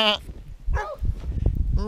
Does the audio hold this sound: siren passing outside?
no